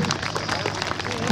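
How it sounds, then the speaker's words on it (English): An outdoor crowd at a giant-scale RC model flying event applauds a pilot, brief clapping heard beneath a loud announcer's voice. "Give him the biggest round of applause you ever did, mate"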